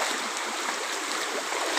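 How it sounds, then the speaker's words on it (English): Steady rushing water from a very big leaking pipe pouring into a small river in New Shillong, a continuous broadband gush with no pauses and no talk over it. "One more pipe leak, man."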